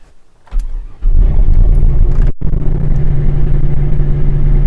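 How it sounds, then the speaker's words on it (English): A truck engine cold-starts with a tuning scanner connected and the coolant at 7 degrees: brief cranking, then a loud catch and roar, a momentary cutout, and a steady rumbling idle close by. "so we'll fire up the truck"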